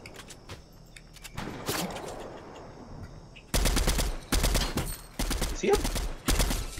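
Gunfire from the Fortnite battle royale video game comes in four short, loud bursts of rapid shots in the second half, after a quieter stretch of scattered pops and movement.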